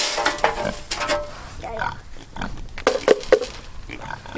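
A pig grunts in short bursts while being fed grain on a small farm, the calls close and uneven over a noisy barnyard background with some rustling.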